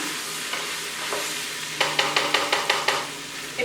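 Thin-sliced potatoes and cabbage frying in a pan under a steady sizzle, then a quick run of repeated scraping stirs near the end.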